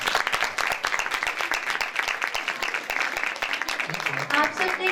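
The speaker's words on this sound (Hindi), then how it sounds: "जोरदार तालियां।" Audience applause fills a church Christmas program, a dense, steady wash of many hands clapping close by for the full stretch, with voices mixed in underneath.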